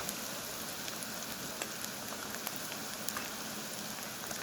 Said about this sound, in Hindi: लहसुन को भी 1 से 2 मिनट के लिए भून लेंगे।